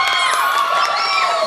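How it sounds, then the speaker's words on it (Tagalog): Wedding guests cheer and shout in a loud, continuous burst of whoops and high voices, with a dense crowd roar filling the short moment. "Palakpak."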